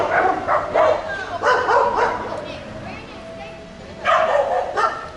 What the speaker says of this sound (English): It's a dog fight.